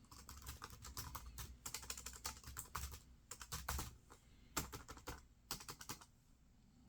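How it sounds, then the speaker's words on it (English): Rattly keys of a ThinkPad X201 laptop keyboard clatter up close in quick, irregular bursts of typing with short pauses, quiet overall and with no voices. "How loud is the keyboard? It's got a kind of rattle to it."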